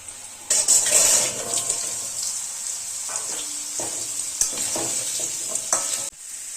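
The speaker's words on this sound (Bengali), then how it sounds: "এবার আমি আলুগুলো ছেড়ে দিচ্ছি তেলের মধ্যে" Potatoes dropped into hot mustard oil already seasoned with dried red chillies, nigella seeds and a bay leaf, giving a steady close sizzle with scraping stirs and clatter throughout, no voices.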